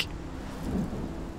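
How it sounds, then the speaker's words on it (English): Thunderstorm in the video game Life is Strange: a steady, broad rumbling wash of storm noise and rain, swelling slightly midway and holding loud and close throughout, with no talk. "look at this storm. It's so big."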